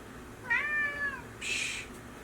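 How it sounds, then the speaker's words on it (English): A pet cat meows twice in the background of an indoor room, a drawn-out, falling call followed by a shorter, higher one, fairly clear against a quiet hiss. "I have a cat in the background"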